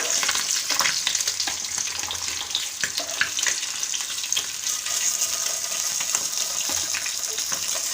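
Hilsa fish pieces frying in a pan give a steady, dense sizzle with scattered crackles and pops, loud and continuous throughout, with no voices.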